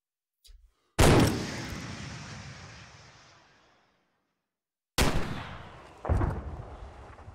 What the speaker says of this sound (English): I'm gonna try and hit that BMP with my rocket.